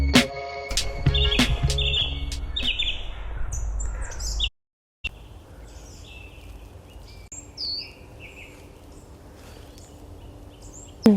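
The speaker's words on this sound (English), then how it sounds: "Listening to all the birds actually." Many wild birds sing and call at dawn around sunrise, with dense overlapping chirps and whistles at moderate distance, a brief silent gap midway, then steadier chorus over a low outdoor hum.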